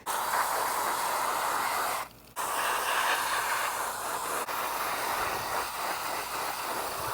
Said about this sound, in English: So let's take it over to the hose, wash it out.